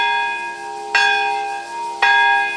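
A church bell in Nagasaki rings out loud and near, two clear strikes about a second apart with long ringing overtones decaying between them, no voices.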